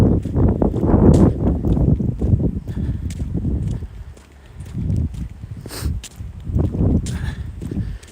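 Wind blowing from behind a walker on an outdoor trail, a steady gusty rush and microphone buffeting with faint footsteps, swelling and easing over several seconds.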